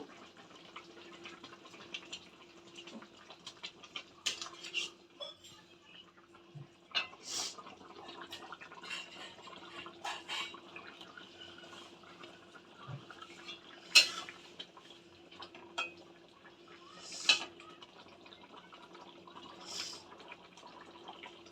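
Fried rohu fish pieces go into a boiling panch phoron curry in a pan, with scattered soft clinks of a spoon against metal over a quiet, low background and no talking.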